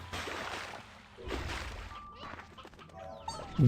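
Hens clucking in the video game Slime Rancher 2, a few short clucks and squawks over game sounds, moderately loud, with a brief louder noise at the end.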